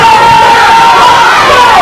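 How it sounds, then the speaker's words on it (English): A wrestling crowd cheering loudly and continuously, a dense roar of shouts and whoops filling the arena with a rising whistle-like tone running across it. "Trying to rally the crowd behind him."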